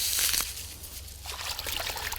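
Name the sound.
rinsing excess water off endive leaves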